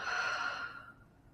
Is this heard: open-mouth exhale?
yes